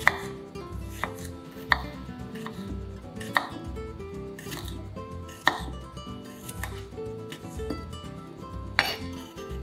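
A knife chops shallots and garlic on a board in a kitchen, sharp distinct strikes spaced a couple of seconds apart over faint background clatter, with no talking.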